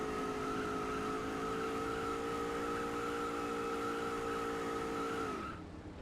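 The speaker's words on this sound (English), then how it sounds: "We were just doing burnouts now." A race car in NASCAR Racing 4 doing a celebratory burnout after the 2001 season's final race, carrying front damage: a loud, sustained tire squeal and engine whine holding steady for several seconds before cutting off abruptly.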